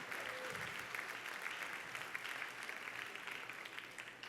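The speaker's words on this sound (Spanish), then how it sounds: "Dale un fuerte aplauso al Señor." A church congregation applauds for the Lord at a Christian worship service, with steady, dense clapping that holds at an even level throughout and no voices over it.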